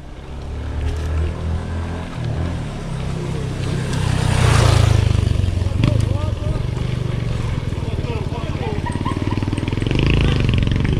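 A motorcycle on a dirt trail between São José dos Campos and São Francisco Xavier roars in, swelling loud and close around midway and staying near with a rough, revving engine while people talk over it.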